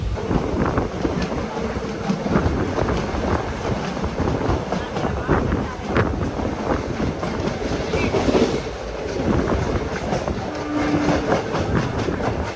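The Trichy to Trivandrum Intercity Express rattles along the rails with a steady rhythmic clatter, wind buffeting the microphone, and a voice speaking faintly now and then.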